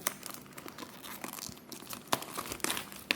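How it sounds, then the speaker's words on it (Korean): Plastic wrap being torn open on a 2024 LCK Spring Split trading card box, a run of close crinkling and tearing rustles with a few sharper rips near the end, heard alone without talk. "한번 비닐을 이렇게 싹 뜯으면은"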